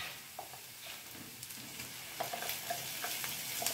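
Raw ground paste sautés in a pan with a low, steady sizzle. Spoon scrapes and light clinks recur at intervals and grow a bit louder toward the end.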